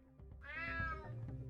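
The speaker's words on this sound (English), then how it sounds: "Damn cat." A cat meows in the video game UnMetal, one drawn-out, rising and falling yowl close up over a low rumbling game background.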